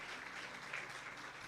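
A crowd gives faint, brief applause for the King, a soft wash of clapping lasting only a moment.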